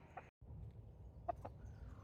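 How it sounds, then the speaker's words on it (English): Free-roaming backyard chickens near a garden give a few short, soft clucks at moderate distance over a steady low outdoor rumble, with no talking. "This here is a couple of our chickens."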